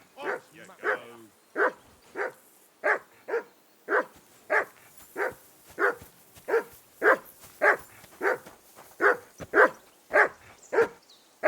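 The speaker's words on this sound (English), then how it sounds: "That barking was a pain in the ass." A dog in Kingdom Come: Deliverance II barks over and over in a steady, loud rhythm, about twenty sharp barks evenly spaced, close and clear against a quiet background.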